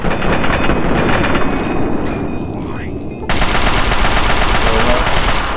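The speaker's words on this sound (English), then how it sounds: "Chinese assault rifle, 53." A Chinese assault rifle fires in Fallout 3, a loud, rapid, steady burst of automatic fire rattling on for several seconds, with a brief dip in the middle before the fire picks up again.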